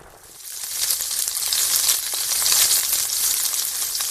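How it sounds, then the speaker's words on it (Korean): Tofu slices pan-frying in oil at a Gangneung Chodang tofu restaurant in Gangwon, a steady bright sizzle that swells after the first half second and holds close and even throughout. "기름에 부친 두부 부침"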